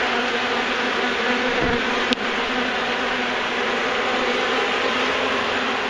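Honeybees buzzing steadily and densely close by during a hive removal, a continuous swarm drone with one brief click partway through.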